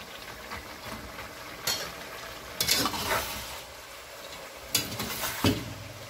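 Carrots frying and being stirred in a pan for buckwheat plov, a steady low sizzle with occasional louder scraping stirs, close and alone with no talk.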